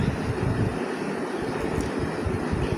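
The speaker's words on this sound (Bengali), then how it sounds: "দেখতে পাচ্ছ আমি কিভাবে আলুগুলোকে একদম চটকে চটকে ধুচ্ছি।" Potatoes are squeezed and washed by hand in a container of water, making a close, steady churning slosh with uneven swirling surges throughout.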